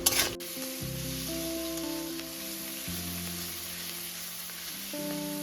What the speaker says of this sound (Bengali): এখানে এই পেঁয়াজ টমেটো এবং ক্যাপসিকামও কিন্তু আমি এখানে দেড় মিনিট মতো লো টু মিডিয়াম ফ্লেমে ভেজে নেব